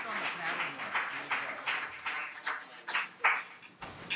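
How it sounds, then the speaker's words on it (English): An audience at a blues performance gives a round of clapping, a bright patter of many hands with uneven swells that thins toward the end, moderately near, with a few voices mixed in. "about a big round of applause,"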